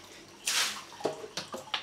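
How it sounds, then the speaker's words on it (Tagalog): Water splashes and runs briefly from a tap at a campsite, with a few drips and sloshes after, close and fairly quiet. "continuous yung flow ng tubig eh"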